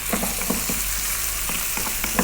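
Pieces of mutton liver frying and being stirred in a hot pan for a spicy liver curry, a steady close sizzle broken by short scraping stir strokes spaced through the clip, with no talking.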